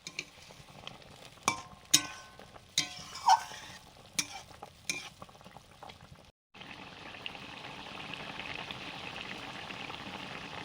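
Fish kosha curry simmers in a pan as a soft, steady bubbling sizzle, preceded by several scraping stirs and clinks, the bubbling continuing faint and even at close range.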